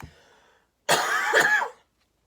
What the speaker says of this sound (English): I have to cough, I'm sorry.